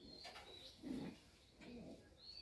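A pigeon in a racing loft coos a couple of low, rounded notes nearby, with faint chirps from other birds around it.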